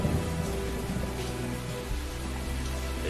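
Heavy rain pours down at an excavation site in England, a dense continuous hiss of drops hitting surfaces, steady and loud with a low rumble underneath.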